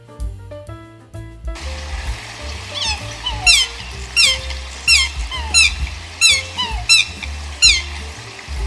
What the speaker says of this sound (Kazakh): Аққу, лебедь.